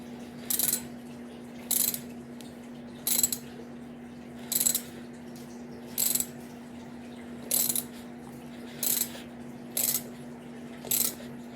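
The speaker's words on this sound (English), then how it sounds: "now I'm gonna tighten it just when, and I'm gonna stop right when the nut is about to hit this flat piece here" A ratchet tightens a nut during an eBay turbo kit install on a D15B7 engine, with eight evenly spaced bursts of clicking against a quiet background hum.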